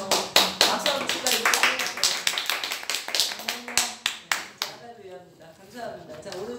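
Church congregation clapping together, a run of sharp, rhythmic hand claps close and loud that thins out and fades near the end.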